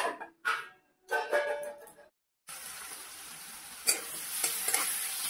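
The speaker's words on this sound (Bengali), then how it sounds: "এখানে পেঁয়াজটা আমি ভাজতে দিয়ে দিয়েছি" Onions frying in a pan, with a few bursts of stirring and scraping broken by short silences, then a steady close sizzle with occasional sharper clinks.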